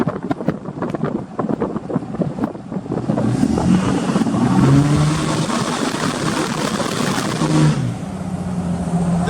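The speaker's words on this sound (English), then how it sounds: "That was all tires peeling." A tuned 6.7 Cummins diesel pickup with HPP EFI Live tuning peels its tires in a loud, sustained roar of engine and spinning rubber, rising after a few choppy bursts and holding steady before easing near the end.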